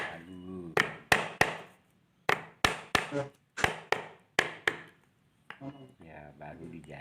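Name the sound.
hammer flattening a drilled book spine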